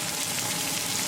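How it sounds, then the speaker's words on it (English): Onion sautéing in a pan on medium gas for a tinda gourd curry, a steady, even sizzle without gaps that carries on close and moderately loud. "we're going to saute our onion on medium"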